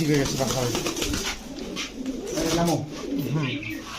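Giribaz high-flying dancing pigeons at a pigeon seller's shop coo repeatedly in throaty, rolling bursts close by, while people talk over them.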